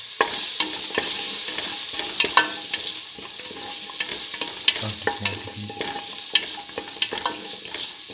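Tomato pieces and salt stirred in a frying pan with a stew mixture, giving a steady loud sizzle with scraping stir strokes and occasional clinks throughout.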